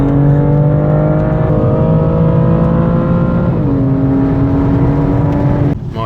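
A sports car accelerates hard on a race track, its loud engine note climbing through the revs, dropping briefly at a gear change and climbing again before cutting off near the end.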